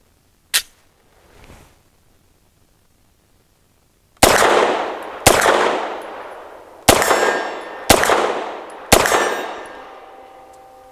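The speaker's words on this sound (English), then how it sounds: "Now let's put a few, 5 more rounds through a 2011 pattern magazine from Duramag." Five sharp pistol shots from a BUL M-5 fed by a Duramag 2011-pattern magazine crack out at an uneven pace, each loud report ringing briefly, with a faint click and a soft knock before the string of shots.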